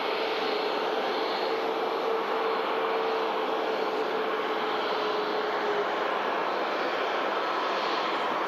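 A Saudi airliner taxiing and backtracking along the runway at Manchester Airport, giving a steady broad engine roar with a faint whine, constant and moderately distant, with no voices.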